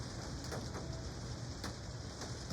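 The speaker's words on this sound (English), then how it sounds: "Just started to rain" Light rain begins outdoors beside an English ivy bonsai, a faint, soft patter of scattered drops with a few brief bird calls and no speech.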